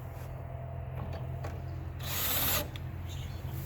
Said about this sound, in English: I'll just loosen the screw that I put in the top here